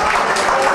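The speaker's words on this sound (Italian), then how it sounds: "L'applauso se lo merita." Burst of applause from diners at an Alpine artillery veterans' group lunch in a restaurant, dense and loud clapping filling the whole moment with no pause.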